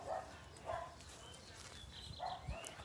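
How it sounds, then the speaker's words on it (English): A dog barks out in a backyard on a warm day, giving three separate short barks spread over a few seconds, moderately distant with outdoor ambience around them. "And that's Trinity barking."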